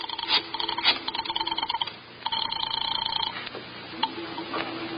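A telephone being dialed for a call in an old radio drama, a series of rapid mechanical ringing and clicking bursts separated by short pauses, fairly faint and heard alone without talk.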